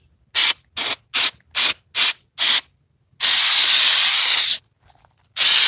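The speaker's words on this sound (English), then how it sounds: "we're going to spray the back side" A spray can coats the back side of a piece of wood in six short, evenly spaced hissing bursts, then one long sustained spray, and another burst begins at the end, all close and loud.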